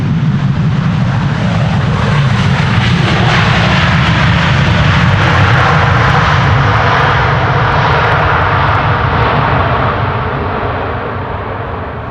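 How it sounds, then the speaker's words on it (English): A large airliner lands at Amsterdam Schiphol Airport with its thrust reversers deployed, giving a loud, sustained roar of engine noise close by that stays heavy throughout and eases slightly at the end, with no voices. "I think this is the loudest landing thus far since we've gone live."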